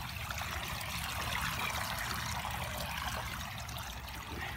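A small pump built for flooding sends out a large volume of water that pours with a steady, broad, hissing splash, continuous and close, with no voices.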